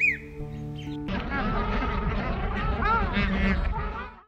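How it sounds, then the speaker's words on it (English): Birds chirp and sing in the trees of a park in Lhasa, Tibet, bright calls scattered over a busy background with nearby voices talking. "we can hear birds singing on trees"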